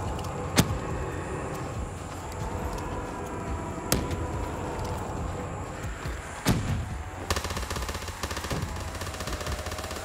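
Dense, continuous gunfire from a PPSh submachine gun in Call of Duty Zombies, aimed at an armored Panzer enemy. The shots run together into a steady, loud stream, with a few sharper cracks standing out along the way.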